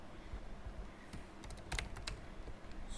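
Code being typed on a computer keyboard, with quiet scattered keystrokes and then a quick, louder cluster of clicks midway, close and alone over a faint background hum.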